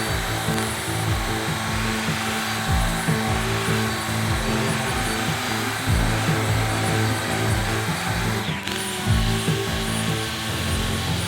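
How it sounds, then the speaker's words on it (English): A router fitted with a small bit cutting wood in multiple passes for canoe stand slings: a steady, loud high-pitched whine with rhythmic dips in pitch as the bit bites into the wood, running continuously. "all I had was this small router bit, so I just had to do multiple passes to get the depth I needed"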